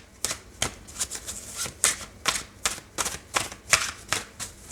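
Tarot cards shuffled by hand, a run of crisp riffling bursts in a fairly steady rhythm, close and clear, with no talking over them.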